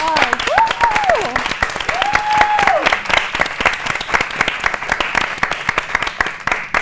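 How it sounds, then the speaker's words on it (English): A studio audience at a campus show applauds a professor, dense steady clapping throughout with a voice calling out over it early on. "Please give her applause."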